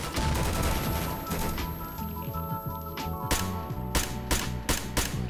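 Gunfire in S.T.A.L.K.E.R. Lost Alpha: a string of sharp gunshots in quick succession near the end, loud and close, over a steady musical background.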